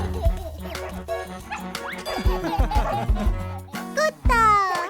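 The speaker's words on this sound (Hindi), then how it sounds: "कुत्ता।" A cartoon dog in a Hindi children's song about a police officer and an ambulance barks several times in short bright yips over music, with a voice talking in between.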